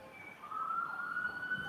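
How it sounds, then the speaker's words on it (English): A police siren wails steadily at a distance in a recording played back in a courtroom, a thin rising tone holding over faint background noise, no talking. "All right, so they're having some sirens"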